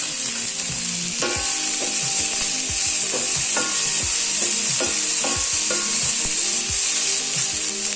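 Turkey berries and garlic sautéing in hot oil in a pan, with a steady loud sizzle under repeated scraping, clattering stirs of a spoon against the pan, no voices.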